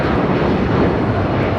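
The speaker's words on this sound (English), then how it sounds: "745 taking off to Chicago O'Hare on a 757-300" A United Airlines Boeing 757-300 departing LAX for Chicago O'Hare makes a loud, continuous jet engine roar, dense and even for the short moment, with no voices.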